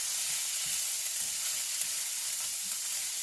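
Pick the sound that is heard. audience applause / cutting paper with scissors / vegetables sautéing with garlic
vegetables sautéing with garlic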